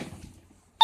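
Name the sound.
phone beeping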